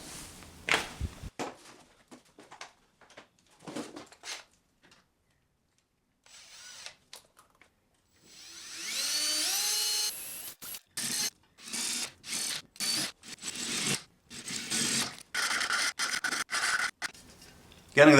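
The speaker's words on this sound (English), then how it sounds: "Right, time to actually get proper drills." A power drill whirs in many short bursts while parts are fitted during a build of a Fairlight CMI synthesizer, with a longer run that rises in pitch midway and then quick stop-start pulses separated by silences.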